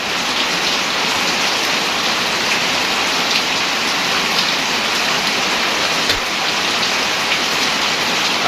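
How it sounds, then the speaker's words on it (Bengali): A constant, loud downpour of heavy rain in a Bangladeshi village, thick hissing patter of drops striking surfaces without pause, no one speaking. "বৃষ্টি নামতেছে ভরপুর।"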